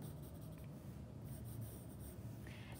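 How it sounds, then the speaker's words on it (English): Pencil drawing a master's hat on paper, a faint steady scratching and rubbing of the tip across the sheet, close and quiet, with no voices. "This master's hat that I draw is going to run off the edge of my paper"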